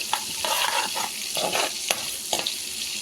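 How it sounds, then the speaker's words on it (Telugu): Half a spoon of cumin seeds fries in oil and melted butter with a close, crackling sizzle, broken by bursts of a spoon scraping and stirring the pan. No one talks. "జీరా వేసుకొని మంచిగా ఫ్రై చేసుకోవాలి"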